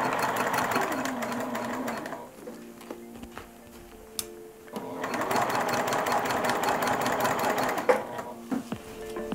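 A sewing machine top stitches a bucket hat with a 2.5 mm stitch length, running steadily and fairly quietly close by, pausing briefly midway with a few clicks, then running again.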